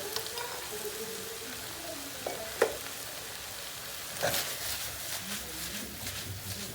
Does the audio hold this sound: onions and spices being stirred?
yes